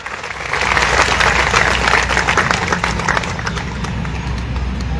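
Loud, dense applause and clapping from a large crowd at an outdoor political rally in Lunawada, Mahisagar, building quickly and sustaining for several seconds.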